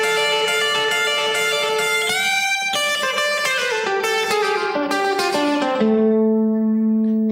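Short rockabilly electric guitar lick: a bent note, then a quick descending run of bright plucked notes, resolving to a sustained low note, loud and close.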